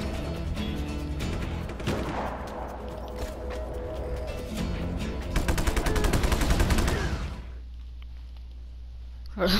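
Rapid bursts of automatic gunfire from the video game Just Cause 3, dense repeated shots for several seconds before cutting off into quieter game ambience.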